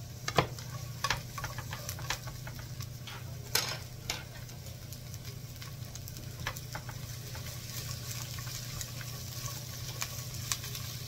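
Sliced white onion and carrots stir-fried in a hot pan, with a steady sizzle throughout and frequent clicks and scrapes of a utensil tossing the vegetables, close and continuous with no talking.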